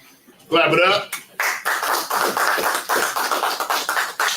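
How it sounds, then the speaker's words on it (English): A church congregation claps along steadily in a quick, even rhythm after a voice calls out, the applause dense and close throughout the few seconds. "Clap it up."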